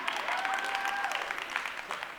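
Audience applause at a live podcast comedy show, a dense wash of clapping with a few whoops over it, steady for a couple of seconds before thinning slightly.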